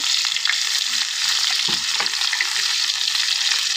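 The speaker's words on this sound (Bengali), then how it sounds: "এখন তেলের ভিতরে পেঁয়াজ কুচি দিয়ে দিচ্ছে" Chopped onion dropped into hot oil for biryani, a loud, steady close-up sizzle with occasional stirring scrapes and crackles, no voices.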